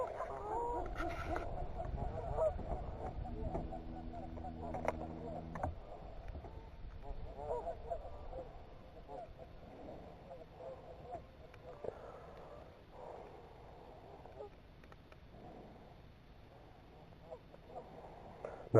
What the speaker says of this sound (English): Swan and geese during breeding season do not get along very well.